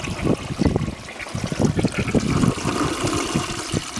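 A 1926 Standard Devoro low tank toilet flushes with a close, rushing gurgle of water that keeps surging and trickling for several seconds, with no talking.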